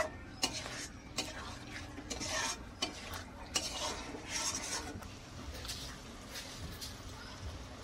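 Egg korma with garam masala being stirred in a pan, with a spoon scraping and knocking against the metal in irregular strokes over a faint background sizzle, fairly close.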